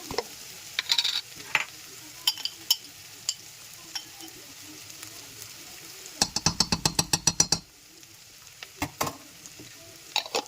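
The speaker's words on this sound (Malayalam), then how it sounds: "സവാള വഴണ്ടി വരുന്നുണ്ട്." Sliced onions sauté in a pan for Kerala-style chicken curry, giving a soft sizzle under scattered scraping stirs, with a quick rattling burst of spatula strokes midway.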